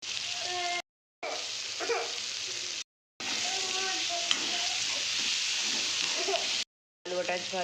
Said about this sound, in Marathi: आलू वाटाणे पण त्या मसाल्यामध्ये परतून घेते.